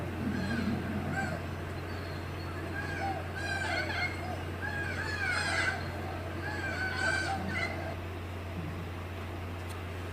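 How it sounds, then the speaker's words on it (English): A big flock of little corellas calls in Australia, with harsh overlapping squawks coming in bursts over a steady low hum, at moderate distance and without speech. "there was a big flock of little corellas there"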